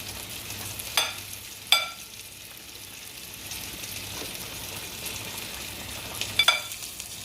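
Coleslaw ingredients are tossed together in a bowl, with a few sharp clicks and scrapes of mixing over a faint steady hiss and no talking.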